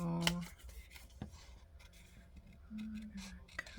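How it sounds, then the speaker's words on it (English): Paper being cut around a shape with scissors for a journal craft project, a few close, crisp snips and slides, with faint background sounds between them. "I'm gonna cut around there."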